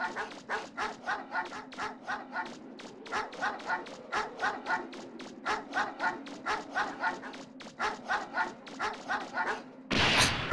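A pack of dogs in Mega Man Legends keeps barking in quick regular bursts for about ten seconds, near and steady, before a brief loud burst of noise at the end.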